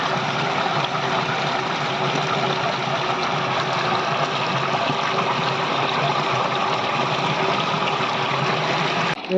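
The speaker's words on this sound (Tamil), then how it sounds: "தண்ணியில் அலாசியாச்சு நீ உப்பு போட்டு சுத்தம் பண்ணிக்கலாம் மீனை" Steady running water pours and splashes continuously over fish being rinsed, with a constant, fairly loud wash, no voices.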